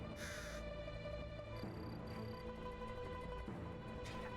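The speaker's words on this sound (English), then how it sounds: "The sound of crows." Crows cawing in the video game Wandering Sword, several harsh caws standing out over sustained game music and ambient tones at moderate volume.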